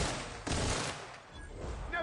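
Sniper fire in The Outer Worlds: a sharp gunshot burst followed by a lingering broad crack, with another faint shot near the end, set against game ambience.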